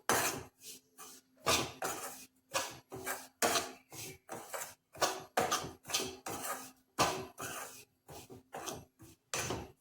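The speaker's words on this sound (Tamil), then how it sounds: "அதையும் 1 நிமிஷம் கிண்டி விட்டுக்குவோம்." A spoon scrapes and clanks against a pan while stirring a country sugar (jaggery) mixture, about twenty short, close, irregular strokes separated by brief pauses.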